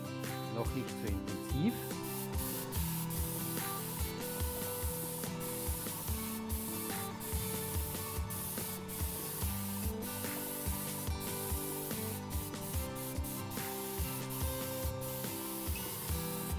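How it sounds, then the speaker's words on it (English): An airbrush sprays Cretacolor Aqua Brique paint evenly onto paper in a steady hiss, broken by short regular bursts and pauses as the trigger is worked, with a faint hum underneath. "I spray on the color evenly, not too much yet."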